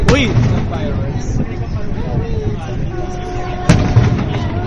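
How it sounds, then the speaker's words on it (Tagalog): Fireworks at the Philippine International Pyromusical Competition: sharp booming bursts at the start and again near the end over a steady rumble of crowd chatter and distant pops, with people talking throughout. "Fireworks."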